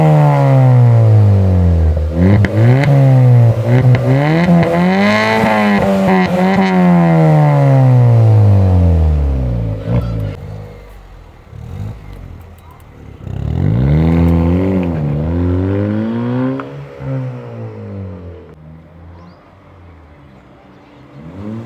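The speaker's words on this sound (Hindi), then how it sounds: "कुछ आवाज़ थी भाई आपने सुन ली थी एग्जॉस्ट की" A modified Honda Brio's loud aftermarket exhaust revs repeatedly, engine pitch climbing and falling in long sweeps, very close and roaring, with a brief lull before another rev.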